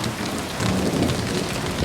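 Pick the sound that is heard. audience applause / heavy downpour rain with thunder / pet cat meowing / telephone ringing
heavy downpour rain with thunder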